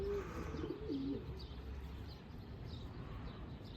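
A rain-soaked pigeon coos in a few soft, low calls near the start, then goes quiet against a steady outdoor background hum.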